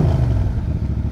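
A motorcycle engine idles unevenly right after running out of gas, a steady low rumble with rough, clattering pulses, close and loud with no talk.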